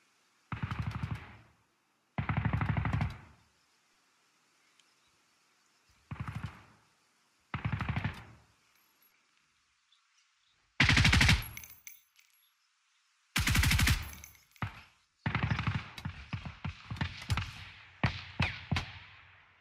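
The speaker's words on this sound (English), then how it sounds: "Why is Clark shooting on his own friendlies?" Bursts of automatic gunfire in the tactical shooter Ground Branch, several separate loud volleys with silences between them, ending in a rapid stretch of closely spaced shots.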